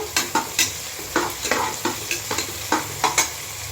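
Onions frying in a pan for chicken biryani, a steady sizzle under repeated sharp scrapes and clinks of a spoon stirring at an uneven rhythm, close up with no talk.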